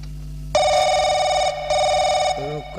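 An electronic telephone ringtone trills loudly in repeated bursts with short gaps, close and clear, before a voice briefly speaks at the end.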